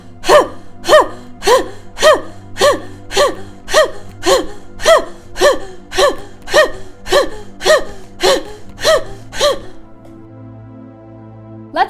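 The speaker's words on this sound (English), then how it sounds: "Let's try the breath of fire for 20 breaths." Breath of fire, the Kundalini meditation practice, as rapid rhythmic breathing: about seventeen sharp, forceful nasal exhalations at an even pace, loud and close, then a quieter stretch with a faint tone at the end.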